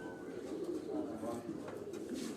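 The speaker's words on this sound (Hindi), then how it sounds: "ਆ ਮਿੱਸੇ ਕਬੂਤਰ ਨੇ ਜੀ" Misse pigeons on a Sialkot rooftop coo softly and repeatedly, faint and close together, with quiet voices murmuring nearby.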